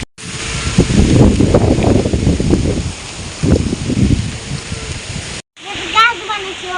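Rain arriving with gusting wind through mango trees, a loud rushing wash of noise with surging bursts, briefly cut off near the end and followed by a voice talking.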